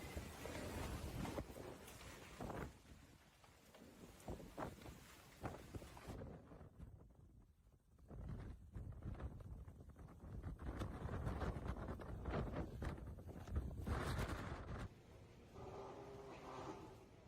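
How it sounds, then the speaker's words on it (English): Category 4 Typhoon Koinu lashing southern Taiwan: strong, gusty wind roars and buffets the microphone continuously, swelling and easing in rough surges, with no voices. "The Category 4 typhoon produced one of the strongest winds recorded worldwide"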